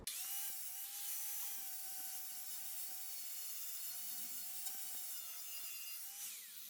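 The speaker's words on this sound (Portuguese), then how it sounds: "Se caso você precisa fazer um chanfro ou arredondar alguma peça na madeira, você consegue muito fácil com o disco flap" A Makita M9510B angle grinder fitted with a flap disc chamfers the edge of a piece of wood. Its steady high motor whine runs throughout under a rough abrasive grinding rasp, close and sustained, with no talking.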